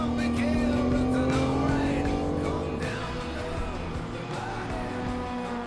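Classic race cars, a Ford GT40 and a BMW 2.8 CS, roar past at a road rally, engines revving and shifting loudly and continuously with a rising whine.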